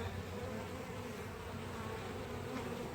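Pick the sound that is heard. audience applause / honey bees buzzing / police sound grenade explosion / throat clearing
honey bees buzzing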